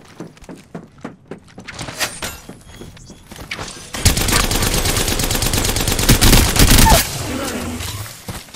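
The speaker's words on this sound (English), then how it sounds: "They spotted me. I'm taking shots." Gunfire in the PS4 game Apex Legends opens with sparse single shots and footstep-like thumps, then becomes a dense, loud burst of rapid automatic fire for about three seconds before cutting off.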